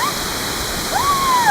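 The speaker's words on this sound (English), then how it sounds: "there are two waterfalls coming down" Two waterfalls pour down in Greece with water splashing, a steady close rushing roar with no pauses and a few faint high whistling tones over it.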